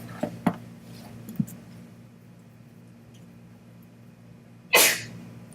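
A single sharp, close sneeze bursts out near the end after a quiet stretch with a few faint clicks.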